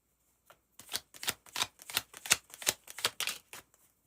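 Tarot cards are shuffled and drawn from a deck, producing a quick run of soft, close riffling flicks and taps, faint overall.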